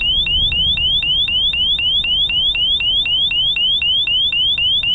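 An ABUS disc lock alarm blaring after the lock is tilted, a loud rapid series of identical rising electronic chirps repeating evenly and close, with no talking.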